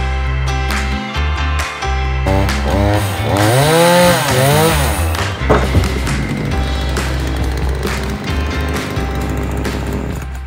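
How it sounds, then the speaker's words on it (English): A chainsaw roars up close, its engine pitch rising and falling as the blade bites into a wooden roof beam, running continuously throughout. "So he needs to chainsaw it flat so we can put the tiles on."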